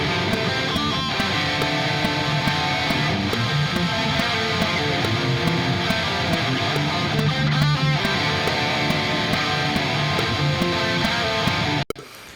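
A rough metal electric guitar part plays a repeating riff with steady rhythmic strums for several seconds, ending abruptly, no voices.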